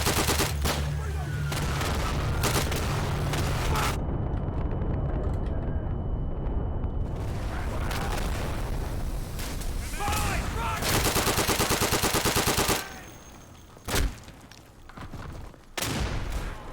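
Gunfire from the World War II shooter game Day of Infamy, with dense bursts of rifle and machine-gun shots rattling almost continuously before cutting to a few scattered, isolated reports near the end.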